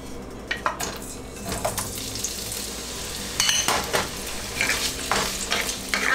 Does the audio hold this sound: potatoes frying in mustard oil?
yes